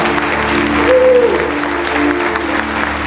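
A church congregation claps steadily during an evening worship celebration, a continuous, full round of applause with a voice or singing faintly audible underneath.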